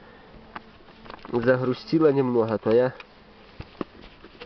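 Honeybees hum around a hive during the hiving of a first swarm, a steady buzzing drone under a voice speaking close by.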